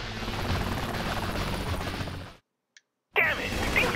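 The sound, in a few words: helicopter in video game Saints Row 3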